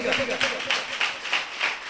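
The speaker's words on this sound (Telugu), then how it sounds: "ఒప్పుకుందాలు గట్టిగా చప్పట్లు కొట్టండి" A church congregation claps together in a steady rhythmic beat, about six even claps filling the moment, close and fairly loud over a faint background murmur.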